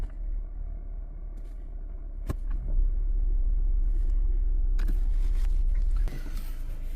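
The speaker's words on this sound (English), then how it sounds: "You're going to cycle through the gears." A 2019 Honda Accord Sport with a CVT idles steadily with a low, continuous rumble while the transmission is shifted through its gears, punctuated by a few brief clicks and a louder mechanical shift partway through.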